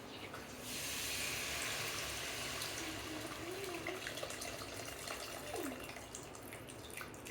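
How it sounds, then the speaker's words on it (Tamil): Soaked tamarind water is poured into a fish curry of mathi meen kuzhambu, a faint steady splashing pour with quiet gurgles, alone with no speech. "நம்ம கரைச்சி வச்சுருக்கிற ஊற வச்சுருக்கிற புளி தண்ணியாக ஊற்றிக்கலாம்"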